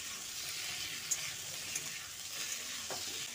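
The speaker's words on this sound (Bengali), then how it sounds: "টমেটোটা দিয়েও কুমড়োর সঙ্গে ভালো করে নেড়ে চেড়ে নিচ্ছি" Chopped onion, tomato and pumpkin fry in a pan as they are stirred, giving a steady, even sizzle with faint utensil taps throughout.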